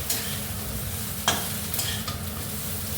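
Cauliflower fries in a full saucepan, giving a constant close sizzle broken by a few sharp stirring scrapes, with no voices.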